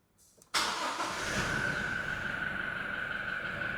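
A Tata Nano's engine cold-starts after sitting for a few days, cranking briefly and then catching into a steady, loud idle that holds close by with no talking.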